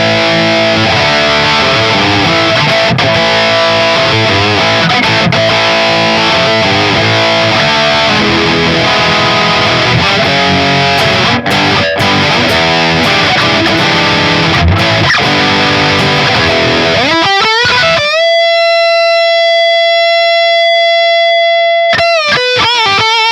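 Overdriven Fender American Pro II Stratocaster on the bridge pickup through an amp simulator, a dense, gritty riff for most of the stretch, then single ringing sustained notes near the end, loud and unaccompanied by speech.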